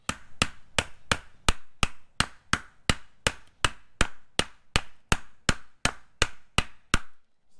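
A hammer drives a wheel bearing hub into place on a Miata, about twenty sharp metallic blows struck in a steady even rhythm, close and loud with brief ringing after each strike and no talking.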